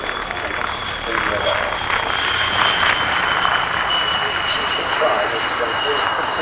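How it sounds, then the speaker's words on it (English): A MiG-29 jet fighter flies a display at the 1992 Farnborough Air Show, its broad, steady engine roar holding loud and continuous throughout, with a commentator's voice running over it. "Pavel Blasov displaying the MiG-29F"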